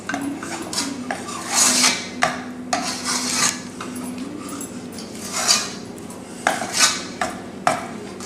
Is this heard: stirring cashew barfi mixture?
yes